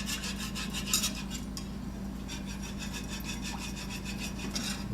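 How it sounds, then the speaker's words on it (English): Rhythmic scraping and rubbing of a whisk stirring milk into a flour roux in a pan, a steady close-up swish repeating through the whole stretch with no talk. "We'll add some of that milk in there. Keep whisking."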